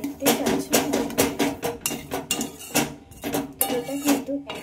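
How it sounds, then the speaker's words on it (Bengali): Sugar being stirred into an ash gourd and sago payesh in a pot, a steady run of repeated metallic scraping and clinking strokes of a spoon against the pot, fairly close and loud. "চিনিটা দেওয়ার পরে এটা একটু হালকা করে নেড়ে চেড়ে নেবো"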